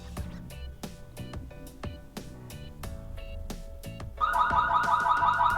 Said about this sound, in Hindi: तो कभी कोई इंटर भी किया तो इस सायरन बजा के आप उनको मतलब डरा सकते हैं।